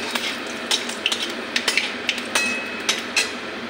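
Whole cumin and fenugreek seeds frying in oil in a kadai for vegetarian aloo dum, stirred with a metal spatula. Repeated clinks and scrapes ring out over a continuous soft sizzle, close and fairly loud.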